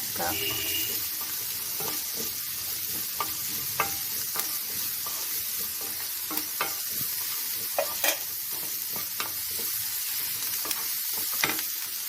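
A spoon stirs and scrapes through Tamil-style lentil dumpling curry in a pan, with a steady sizzle underneath and scattered clinks and taps, close up and without speech.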